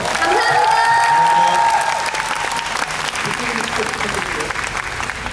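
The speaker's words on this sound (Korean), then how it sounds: "지금까지 세 분의 배우분들 수고하셨습니다. 큰 박수 부탁드리겠습니다." A theater audience applauds three musical actors at a Daehakro stage event, dense steady clapping with some cheering and a few whoops, loud and close, tapering slightly after the first two seconds.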